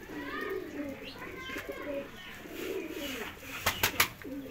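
Domestic pigeons coo in soft, repeated low calls close by, with a few sharper bird chirps near the end, against a quiet background.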